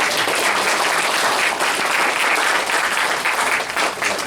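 A church congregation breaks into loud, sustained applause, many hands clapping densely and evenly throughout with no pause.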